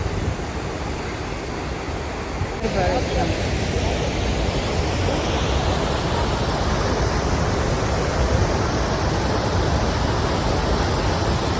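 Roaring rush of Athirappilly Falls, a large waterfall in Kerala, a dense, steady wall of broadband water noise that swells after a brief quieter opening and then holds loud and constant with no voices.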